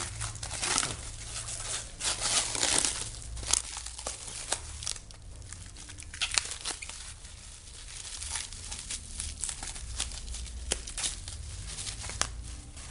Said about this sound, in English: We are going to remove the PVC plastic.